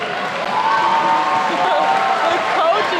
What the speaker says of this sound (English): please stand for a round of applause for all our coaches